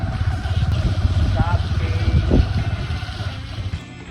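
A motorbike engine drones steadily under loud wind rush while riding in the rainy season, with a brief horn-like tone midway.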